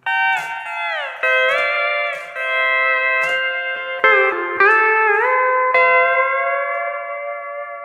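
A second country pedal steel guitar lick has several picked chords that bend and glide between pitches. The notes ring out clearly in a steady, unhurried phrase with no talking.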